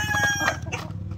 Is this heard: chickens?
yes